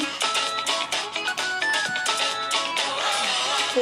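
A mobile phone ringtone plays continuously as a dense, busy melodic pattern, loud and close, filling the whole stretch without talk over it.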